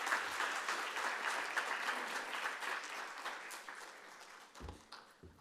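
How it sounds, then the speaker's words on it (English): An audience at an annual meeting claps for a showcase presentation, a steady wash of many hands that tapers slightly toward the end, with no speech over it. "Let's give them a round of applause again, because once is not enough"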